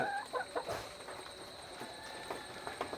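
A native red rooster in a chicken coop gives short clucking calls, faint against a steady background hum and scattered coop noises.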